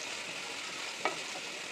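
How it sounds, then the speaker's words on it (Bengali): Garlic and onion sizzle and crackle steadily in hot oil for a tempering, a soft continuous hiss with one brief louder pop partway through. "রসুন এবং পেঁয়াজ দিয়ে বাগার দিব"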